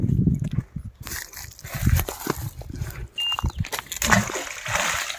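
Water from a 5 HP pump splashing and sloshing heavily into a well in bursts, close by, with animal grunts or barks and faint voices mixed in.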